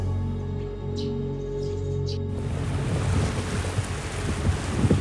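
Water surging and rushing as the tide rises where river water meets incoming sea water in Bangkok; a steady broadband wash with wind buffeting the microphone grows louder after a quieter opening.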